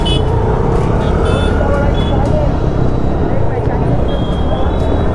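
A busy city road is jammed with traffic, a dense, constant roar of engines close around, with scattered faint horn toots and voices mixed in.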